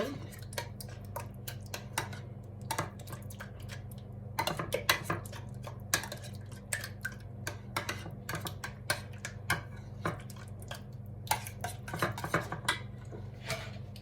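A lentil and noodle salad with yogurt is mixed in a bowl, with a run of light, quick utensil clicks and scrapes. The mixing is faint, close and irregular, and there is no talking.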